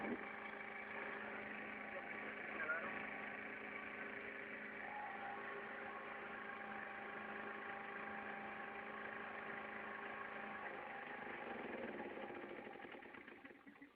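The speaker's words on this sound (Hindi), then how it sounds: "इस वक्त आपको जनरेटर से करंट मिलना शुरू हो गया घर में" A home generator hums steadily under a faint, even drone that holds nearly unchanged for the whole stretch and tapers slightly at the end.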